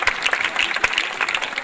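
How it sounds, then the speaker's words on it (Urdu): An audience at a Christian religious gathering applauds to welcome a guest onto the stage, with brisk, uneven clapping and sharp individual claps standing out, loud and close, with no talking. "آپ کی زوردار تالیاں خدا کے جلال کے لیے اور ان کے خادم کے لیے"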